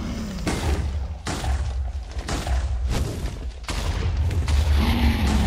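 Laser gun in the Minecraft modpack Enigmatica 2 firing in repeated bursty blasts, each a broad noisy crack with low thumping, roughly every second, loud and continuous with no talk.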